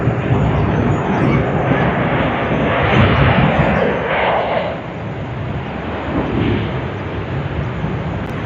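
Jet engines of a Jetstar Boeing 787-8 Dreamliner at Sydney Airport, a loud steady roar that swells and eases slightly, heard alone without voices.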